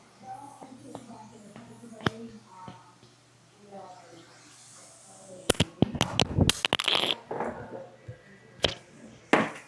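A DJI Mic Mini wireless microphone dropping and knocking about, a cluster of sharp clattering bangs and rustles arriving midway after quieter handling noise, with a voice talking faintly at the start.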